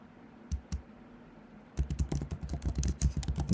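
Python code being typed on a computer keyboard: a couple of isolated key clicks, then a quiet pause, then a rapid, steady run of close, crisp keystrokes.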